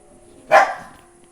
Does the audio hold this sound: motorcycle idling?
no